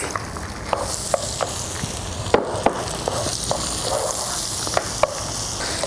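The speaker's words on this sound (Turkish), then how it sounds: "Evet yağımız hazır. Etimizi koyuyoruz." Meat frying in hot oil in a pan while cooking bakla tavası, a steady loud sizzle with sharp clicks and pops scattered throughout, no voices.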